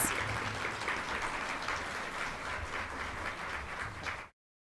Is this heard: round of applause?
yes